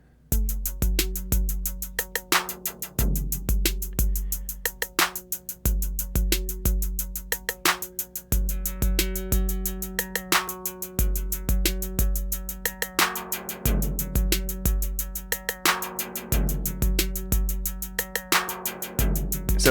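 A punchy drum loop of kicks and claps runs through a Chase Bliss Audio Chemistry effects pedal, repeating in a steady rhythm at moderate level with no voices.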